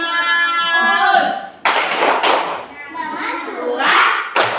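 Classroom children perform a rhythmic clapping chant for Surah Al-Maun, with bursts of sharp claps and thumps mixed with their sung and spoken voices, all close and loud.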